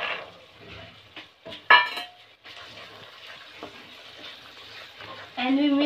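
Mushroom curry being stirred and mixed in a pan: a metal spoon scrapes and clinks against the pan over a soft sizzle. There are sharp knocks near the start and scattered bits of talk in the background.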